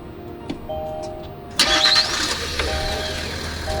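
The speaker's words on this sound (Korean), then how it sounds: "시동 한번 걸어볼게요." A Kia Mohave The Master SUV engine cranks and catches with a sudden roar, then settles into a steady, low idle heard from inside the cabin.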